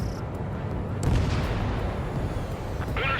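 Anti-aircraft fire in a video game, heard as a steady, heavy low rumble of sustained booming bursts that stays loud throughout with little break.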